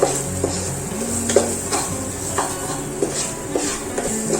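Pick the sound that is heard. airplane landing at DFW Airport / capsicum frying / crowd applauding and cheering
capsicum frying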